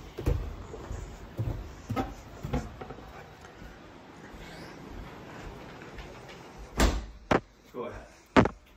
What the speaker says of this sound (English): I'm going to shut the sliding glass door so the noise doesn't